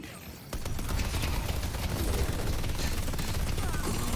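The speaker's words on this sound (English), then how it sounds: "we'll use turrets to clear this camp here" Turrets in the video game Deadlock open up to clear a camp, a dense, sustained barrage of rapid gunfire bursts that starts abruptly and runs steadily loud, with game effects layered throughout.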